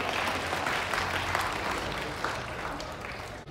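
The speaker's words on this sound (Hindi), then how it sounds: "तालियों से स्वागत छात्रा का।" Students and guests at a school Children's Day program clap to welcome a student to the stage, a thick, even burst of applause that carries the whole moment and eases off slightly at the end.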